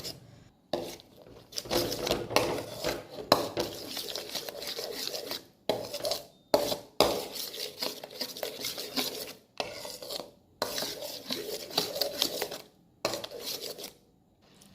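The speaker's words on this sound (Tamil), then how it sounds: "நல்லா கிண்டி விட்டுக்கிட்டே இருக்கணும்." A spoon scrapes and rasps around a pan of almond halwa with saffron in repeated stirring strokes, broken by brief pauses, close up and fairly quiet with no talking.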